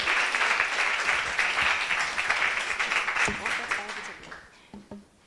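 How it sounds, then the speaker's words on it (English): An audience applauds a group that has just presented at a college pitch competition, a dense round of clapping that holds steady and then thins out toward the end, with a voice briefly audible beneath it. "Huge round of applause for our last group."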